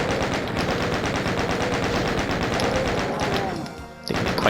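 Chaingunner fire in the Doom map Arrival, a long, steady stream of rapid shots rattling on loud and unbroken, then briefly dropping away before resuming.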